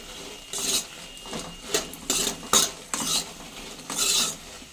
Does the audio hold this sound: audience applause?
no